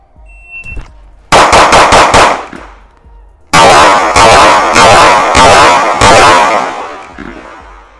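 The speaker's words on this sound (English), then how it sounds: "That was only 5 shots." A CZ Shadow 2 Compact pistol with an aftermarket spring set fires five rapid, very loud shots at close range on an outdoor range, followed after a pause by a second longer string of sharp reports.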